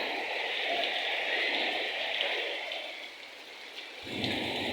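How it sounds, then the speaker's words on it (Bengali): Heavy afternoon rain pouring at Kachua Bazar in Bagerhat, a dense, steady roar of downpour with no break and no talk. "এই দেখেন বৃষ্টি প্রচণ্ড জোরে।"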